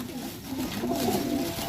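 Pigeons coo nearby in a short, soft, rolling call, with a low murmuring tone and light background noise.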